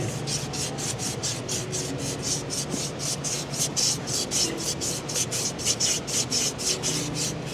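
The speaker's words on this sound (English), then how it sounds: "Wet sand it." Steady rhythmic wet sanding of built-up coolant crust on a Buick cooling system part, about three quick rasping strokes per second, close and even with no talking.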